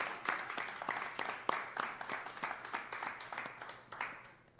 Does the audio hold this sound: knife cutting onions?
no